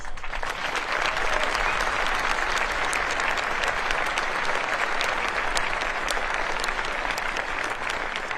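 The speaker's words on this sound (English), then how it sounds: "please join me in giving them a heartfelt round of applause" Sustained applause from a large crowd at a Naval Academy commencement ceremony, a dense, even wash of clapping throughout with no speech over it.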